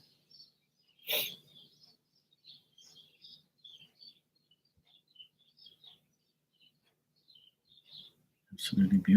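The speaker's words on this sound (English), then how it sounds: "Birds are really going off it outside." Outdoor birds chirp and sing in short scattered calls, faint and distant against a quiet room, with a sharp burst of noise near the start and a voice breaking in at the end.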